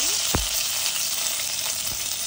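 Ghee sizzling in a pan as bay leaves and cinnamon go in for pulao, a steady bright crackle with a few sharper pops and spits, close and alone without talk.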